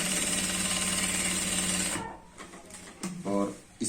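A sewing machine hums steadily for about two seconds while stitching a pant belt, then stops, followed by a few short handling sounds and a voice.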